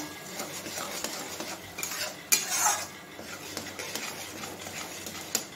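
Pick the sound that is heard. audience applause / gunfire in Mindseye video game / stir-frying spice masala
stir-frying spice masala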